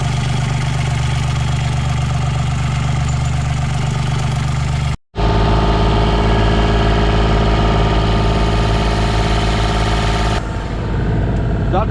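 A sailboat's engine running hard at full revs, a loud continuous droning rumble that holds steady, breaks off for an instant, then carries on.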